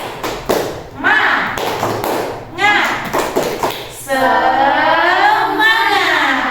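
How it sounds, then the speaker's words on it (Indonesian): Elementary school children do a rhythmic spirit clap, tepuk semangat: sharp, loud claps in a quick pattern, followed by a sustained shouted group chant. "yuk tepuk semangat"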